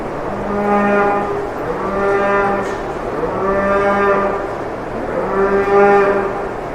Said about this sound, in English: you can tell it's milking time because there's a number of cows literally congregating right up here by the gates